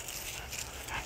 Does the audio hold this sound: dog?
yes